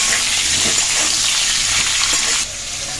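Pointed gourd (potol) fries in a pan with a steady, loud, close hiss of sizzling oil that drops slightly in level near the end.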